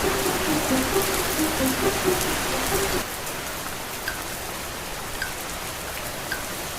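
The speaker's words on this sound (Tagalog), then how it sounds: "Malakas yung ulan." Heavy rain falls in an animated scene in the Philippines, a dense steady hiss of pouring water throughout, with a low tone underneath for the first few seconds and a few faint chirps later, no talking.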